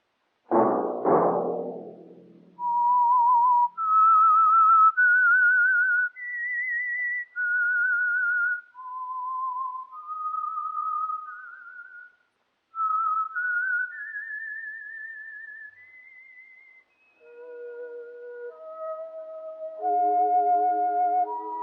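A lone whistler carries a slow, clear melody of sustained notes, the theme of the 1948 radio drama The Whistler, followed by a soft swell of background music.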